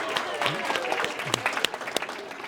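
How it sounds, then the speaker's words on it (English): An audience at a lecture-series event bursts into a short round of applause, dense hand claps with a few sharper slaps rising above the wash. "Give her a round of applause"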